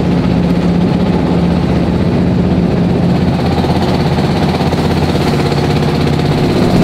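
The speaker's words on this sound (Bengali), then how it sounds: "মোটামুটি বড় আকারেরই ট্রলার, এগুলা সন্ধ্যা 6টা পর্যন্ত চালু থাকে" A fairly large trawler's engine runs on the Padma river, a loud, steady low rumbling drone with a faint rattling vibration and no speech.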